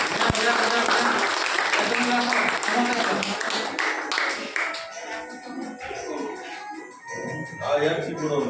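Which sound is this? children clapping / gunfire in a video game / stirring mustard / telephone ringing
children clapping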